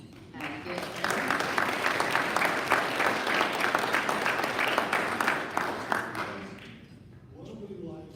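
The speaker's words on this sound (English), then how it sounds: "And we are actually going to give Craig a round of applause" An audience at a Rotary club meeting breaks into applause, a dense roll of clapping that builds, holds for several seconds, then fades as voices return.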